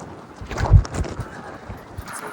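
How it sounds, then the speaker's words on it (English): Strong gusting wind buffets the microphone outdoors near a large government building, giving a rough, fluctuating rumble with one heavier gust. "It's insanely windy though."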